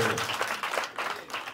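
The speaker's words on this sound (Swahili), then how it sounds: "Piga Yesu makofi ukiwa hai." A church congregation at a Roho Israel gospel service claps along for Jesus, a steady dense patter of many hands that carries through the whole short moment, with faint voices blended underneath.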